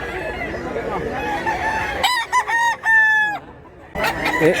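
A rooster crows close by in a rural Filipino setting, one loud drawn-out cock-a-doodle-doo standing out over clucking fowl and ambient chatter, with voices resuming right after.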